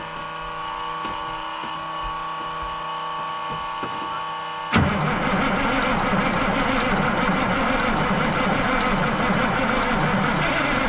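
A Peterbilt 359 diesel engine, sitting unused for 20 years, cranks with a steady mechanical drone, then abruptly catches and fires into a louder, rougher continuous run that holds to the end.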